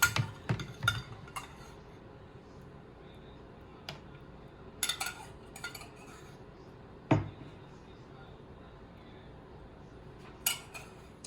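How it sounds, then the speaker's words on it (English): A metal spoon scrapes and clinks against a bowl in quiet, sparse bursts. Sharp scrapes and taps stand out against near silence, with a few louder clusters spread through the clip. "This scraping of the spoon in the bowl is giving me ASMR."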